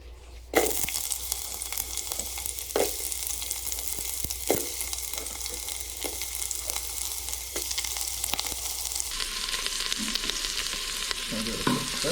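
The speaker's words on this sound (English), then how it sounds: "we're going to add our 3 ingredients here, which is red onion, ginger, and garlic. And we're just gonna toast these" Red onion, ginger and garlic fry in an Instant Pot with a continuous close sizzle, broken by repeated scraping stirs every second or so, and the frying grows brighter and more intense toward the end. No one speaks.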